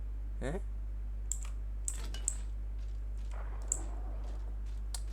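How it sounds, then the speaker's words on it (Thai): Scattered computer keyboard clicks and key taps while playing Apex Legends, a few sharp strokes spaced irregularly, over a steady low hum with a brief voice near the start. "อาจจะลำคาญเสียงคีย์บอร์ดไปนิดนึงนะครับต้องขออภัยเป็นอย่างสูง"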